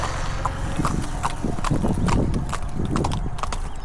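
Horse hooves clip-clop in a steady, close rhythm during a trail ride at a riding club in Ramanagara, continuing throughout with light background noise and no talking.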